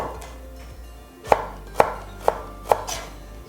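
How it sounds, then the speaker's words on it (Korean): A knife slices carrot into thin julienne strips on a board for the Korean dish chiljeolpan, making four crisp, evenly spaced chops after a quiet start. "당근을 채 쓰실 때는 일직선이 맞는 부분만 이렇게 채를 썰어 주시는 게 좋아요"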